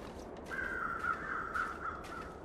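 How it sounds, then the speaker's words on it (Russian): Crows caw in the video game The Long Dark as a short run of raspy calls over a cold wind-like hiss, moderately close, with no talk. "Вот они, вороны летают над трупиком."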